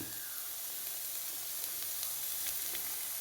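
Beans stir-fry sizzles steadily in a pan after a little coconut oil is poured in and stirred, a continuous close hiss with faint stirring ticks.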